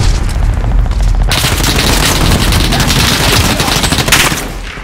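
Heavy gunfire in Call of Duty Warzone, dense rapid automatic bursts mixed with booming impacts, loud and close throughout, with a brief pause in the barrage early on.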